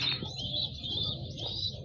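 Pigeons coo and chirp close by in a loft where a pair of birds is kept, a steady run of soft calls lasting about two seconds with no talking.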